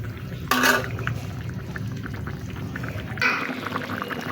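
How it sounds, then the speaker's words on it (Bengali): Thin potato and pangas fish curry simmering in a pot: a steady bubbling, burbling hiss runs throughout, with two brief louder splashy bursts as the liquid is stirred or poured, close by and alone. "এখন আমি আরেকবার একটু ভালো করে তরকারিটা ঝোলটা ভালো করে ফুটিয়ে নেব।"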